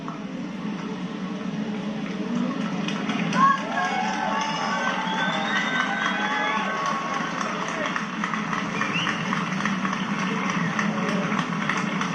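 A large crowd gathered along a royal funeral procession route in Windsor, a continuous broad roar of cheering and shouting with some clapping and scattered voices, loud and sustained throughout.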